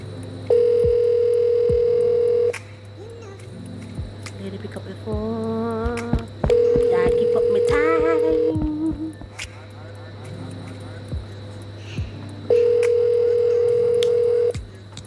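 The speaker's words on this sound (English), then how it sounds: "Okay, it's ringing now. It's ringing." Outgoing phone call ringback, steady electronic tones repeating in long bursts with silent gaps, while people talk in between.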